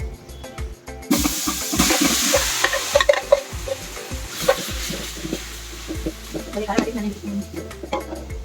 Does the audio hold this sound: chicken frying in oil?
yes